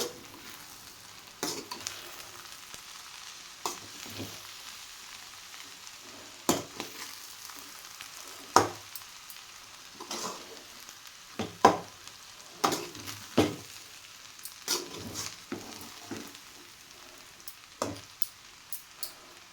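A spoon stirs broad bean biryani in a pot in repeated scraping strokes, with soft clinks against the metal over a faint sizzle. The strokes are spaced irregularly and sound close by.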